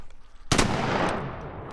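A single sharp shotgun blast goes off while hunting ducks in North Carolina, loud and close, followed by a brief decaying echo; faint background before the shot.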